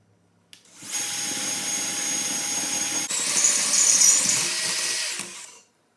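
A power drill with a step bit bores through metal while brake calipers are made, a steady whirring grind that starts abruptly, rises to a harsher squealing pitch midway, then stops, close and without talk.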